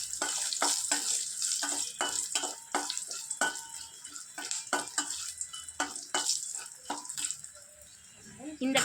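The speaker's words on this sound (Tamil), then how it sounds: "மிளகு வத்தல், மணத்தக்காளி வத்தல், சுண்டை வத்தல் ரெண்டையும் போட்டு கொஞ்சமாக எண்ணெயில் சிறுவும் தீயில் ஃப்ரை பண்ணிக்கலாம்" Dried sundakkai and manathakkali berries with pepper crackle and sizzle in a little oil over a low flame, with sharp repeated pops and clatters of stirring against the pan close by, steady throughout.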